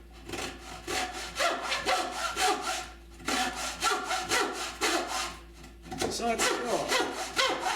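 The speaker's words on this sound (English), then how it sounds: "a little aggressive bimetal cobalt blade. It's a little aggressive for the soft pine." Hand sawing of soft pine held in a vise, using an aggressive bimetal cobalt blade. Steady rhythmic rasping strokes run close and loud in three runs separated by brief pauses, and a voice speaks briefly.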